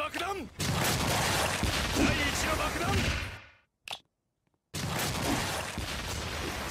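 Bomb explosions from Killer Queen in the Roblox-style game A Bizarre Day burst in a dense, loud barrage of booms and crackling blasts, cutting to near silence before another burst resumes.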